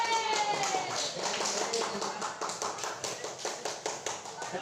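Classroom applause for a presenting group during a teacher coaching session in Indonesia, a dense burst of many hands clapping, steady at first then thinning into separate rhythmic claps toward the end.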